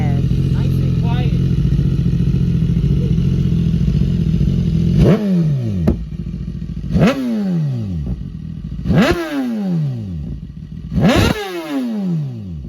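A BMW S1000RR fitted with a full titanium Arrow exhaust system idles at first, then fires off four sharp, loud revs that climb quickly and fall away, each one crackling as it settles. Voices talk over the engine.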